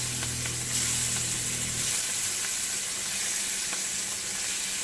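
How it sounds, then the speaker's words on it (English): Shrimp sizzle loudly in hot oil as they brown in a pan, a steady close frying hiss with a faint low hum fading early on and no talking. "I'm going to brown these shrimp right now in this oil"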